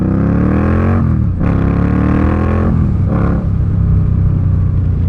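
Cruiser motorcycle engine revving hard up close, a deep rumbling drone that climbs in pitch, drops off briefly, then climbs again in repeated throttle blips.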